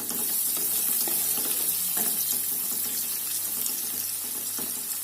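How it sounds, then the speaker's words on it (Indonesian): Shallots sautéing in a pan for a fish dish with chili and stink beans, stirred steadily with a utensil, a constant close sizzle under scattered soft scraping taps, no voices. "Kita aduk-aduk biar kematangannya merata."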